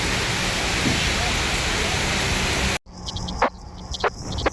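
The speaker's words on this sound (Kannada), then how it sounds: "ಫುಲ್ ಮಳೆ ಬರ್ತಾ ಇದೆ." Heavy rain falls near a forested stretch by Doddaballapur, a loud, dense hiss that cuts off abruptly partway, followed by quieter patter and a few sharp transient knocks.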